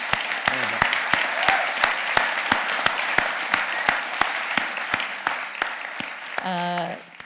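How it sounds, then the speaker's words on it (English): An audience claps steadily for an honoured speaker at a City Lit fellowship event, the claps sharp, close and evenly paced throughout. "I would just like you all to join me in a round of applause for a wonderful man, Jeremy."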